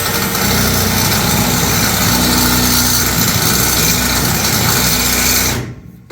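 A power drill whirs loudly and steadily for several seconds during restoration work at an old 1947 mill, then winds down and stops near the end.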